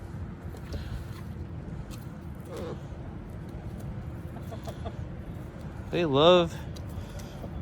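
Chickens cluck and chatter over low rumbling background noise while pecking at alligator meat scraps, with a louder burst of clucking near the end and a person speaking briefly.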